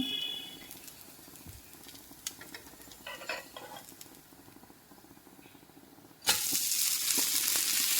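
A green gram (cherupayar) dosa cooks on a pan, first with faint scraping and soft sizzling, then a sudden loud, sustained sizzle after the flip.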